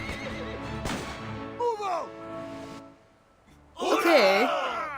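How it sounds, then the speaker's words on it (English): Horses neigh and whinny loudly in the game Reverse: 1999 as cavalry rears up, with a short whinny early on and a longer, louder burst near the end over a steady background of music and noise. "The boys rear their horses"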